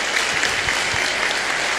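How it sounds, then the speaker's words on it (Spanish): A short burst of clapping from a crowd, dense and continuous at moderate volume, with no one speaking over it. "Un fuerte aplauso para ellos que se convirtieron"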